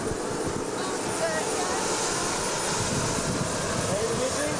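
Harmony Airways airliner at Punta Cana airport, its engine giving a steady, loud broadband roar that holds unchanged throughout, with faint voices mixed underneath.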